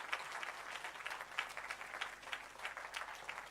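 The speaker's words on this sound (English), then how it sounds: "let's give a very warm round of applause to all our panelists" Audience applause for the panelists at the close of a symposium, a steady, fairly quiet wash of many hands clapping throughout, with no speech over it.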